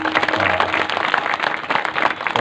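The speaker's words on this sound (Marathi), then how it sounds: "सगळ्यांनी यांच्या करता एकदा टाळ्या वाजव बरं." A kirtan audience claps in a dense, continuous patter of many hands, loud and close throughout, without any voices standing out.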